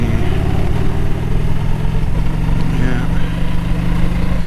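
A motorcycle engine runs steadily while being ridden down a sandy road, a loud, close, continuous mid-pitched drone with slight wavering.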